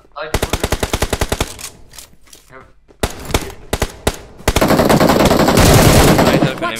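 Machine gun fire in a video game crackles in rapid, evenly spaced bursts, loud and close, pausing briefly before resuming and ending in a dense continuous roar of shots.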